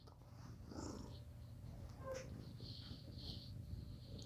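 A soft, steady low rumble of a cat purring close by, continuous throughout with faint rustling above it.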